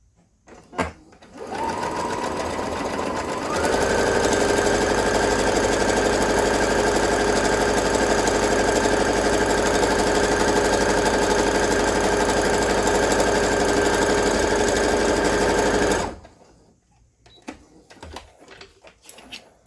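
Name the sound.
sewing machine sewing along the edge of a scarf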